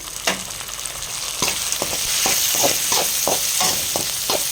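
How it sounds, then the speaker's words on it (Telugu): Ginger garlic paste and onion fry in oil for a bottle gourd and raw mango curry, a dense continuous sizzle broken by repeated stirring scrapes and crackles as tomato goes into the pan. "ఒక అర స్పూన్ అయితే అల్లం వెల్లుల్లి పేస్ట్ వేసుకున్నాము ఇది పచ్చివాసన పోయే వరకు అలా అయితే వేసుకున్నాము టమోటా అయితే వేద్దాము"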